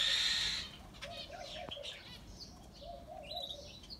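A bird bursts from its nest among newly planted garden trees on a morning walk, with a loud, brief rush of flapping wings at the start, then scattered chirps.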